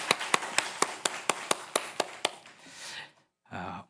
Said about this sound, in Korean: 다시 한번 우리 한번 유치부 선생님들에게 박수로 한번 격려하겠습니다